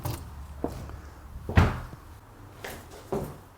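A house door is opened after long disuse, giving several wooden knocks and thuds with one heavier bump in the middle, close by and with no one talking.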